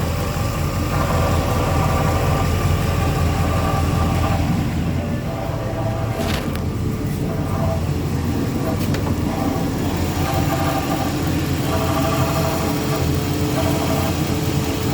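An engine idles steadily after a timing chain job, with a constant low rumble and a faint rubbing or whirring from the tensioner bearing on a new guide, plus a couple of brief clicks partway through.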